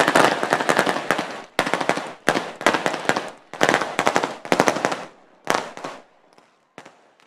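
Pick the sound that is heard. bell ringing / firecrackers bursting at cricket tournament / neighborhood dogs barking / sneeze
firecrackers bursting at cricket tournament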